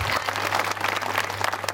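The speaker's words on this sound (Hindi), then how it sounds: "एक बार उनके लिए तालियों की जोरदार बजाना है" Applause from an audience at a Teli Sahu Mahasabha block-level honour ceremony and Holi gathering in Gidhaur, a dense, steady clatter of many hands held at an even level over a low electrical hum.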